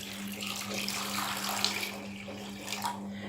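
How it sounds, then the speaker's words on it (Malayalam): Water pours into a pan holding 350 grams of jaggery to make syrup for neyyappam, a soft, steady stream running for a few seconds over a low hum. "എന്നിട്ട് അതിലേക്ക് 1 കപ്പ് വെള്ളം ഒഴിച്ചു."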